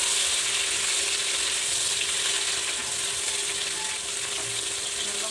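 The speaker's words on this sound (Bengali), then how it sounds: "এবার দিচ্ছি টমেটো কুচি" Chopped tomato sizzling among frying onions in a hot pan, a continuous dense crackling hiss that stays even and close for the whole stretch, with no voices over it.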